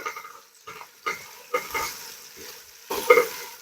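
Chopped onion, colored bell pepper and hot chili stirred in a pan for a Gulf-style madhbi, with a soft frying sizzle and several scraping stirs at irregular intervals, close and moderately quiet.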